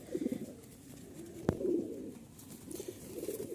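Turibaz pigeons in breeding pairs coo softly and repeatedly nearby, with a single sharp click partway through and faint background noise.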